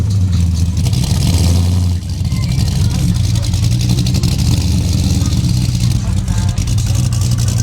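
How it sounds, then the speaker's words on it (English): A 1968 Dodge Charger's engine rumbles loud and close, a steady low-pitched roar with revving swells at a street car meet, with people talking over it. "Guys, this 68 Charger sounds nuts."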